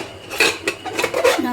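A pressure cooker lid is twisted and lifted off during the cooking of a Kerala ash gourd and lentil curry, giving several close metallic clanks and scrapes in quick succession.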